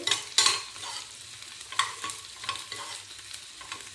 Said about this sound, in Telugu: చూడండి, ఉల్లిపాయ మంచిగా వేగిపోయింది